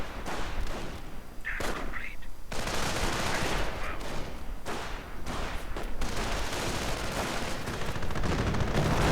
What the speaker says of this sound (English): Rifle immediately coming under fire. Very heavy and intense fire from the Panthers, sending the riflemen quite the gauntlet.